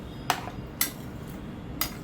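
Khichdi being mixed in a pot with cilantro on top, heard as three sharp metallic taps of a spoon against the pot spaced irregularly over a quiet background.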